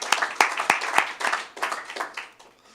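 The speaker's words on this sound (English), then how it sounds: "Do you want to give a little clap?" Board meeting attendees give a short round of clapping in a meeting room: a loose patter of claps that starts fairly strong, then gradually thins and trails off over a few seconds.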